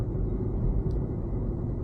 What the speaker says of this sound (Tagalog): Daming truck dito.